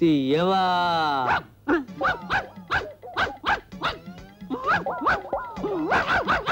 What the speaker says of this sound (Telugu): సార్ లోపల నుంచి కుక్కల అరుపులు వినిపిస్తున్నాయి సార్